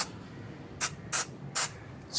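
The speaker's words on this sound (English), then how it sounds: "Take this can of Worth rubber care spray," Several short spray bursts from a Würth rubber care spray can aimed onto a microfiber cloth, three crisp hissing puffs spaced evenly apart in a quiet room, close and fairly loud.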